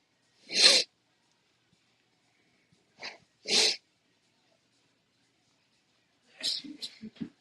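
Several sharp sneezes burst out with quiet pauses between them, ending in a cluster of shorter snorting bursts, close and fairly loud in a barbershop during a live haircut.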